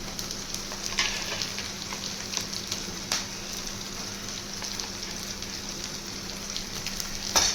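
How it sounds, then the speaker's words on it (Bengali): Ginger and garlic fry in hot oil with chopped chilli for a mixed fried rice, a steady, moderately loud sizzle with a few faint clicks and scrapes and no voices. "আদা রসুনটাকে 2 সেকেন্ড ভাজবো।"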